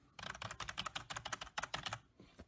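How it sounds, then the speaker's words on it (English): A clicky computer keyboard from a gaming setup is typed on in quick, uneven bursts of sharp key clacks, close but fairly quiet, before the keystrokes trail off. "Great mouse and keyboard. Very clickety."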